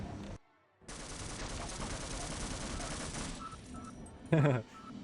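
Gunfire in Half-Life rattles in a dense, sustained burst lasting about three seconds after a brief silence. Scattered shots and a louder sharp crack follow, and a voice talks faintly underneath.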